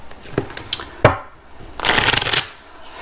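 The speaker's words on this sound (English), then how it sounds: "Let's shuffle." Tarot cards are shuffled in a few quick riffling bursts, close and crisp, with no talking.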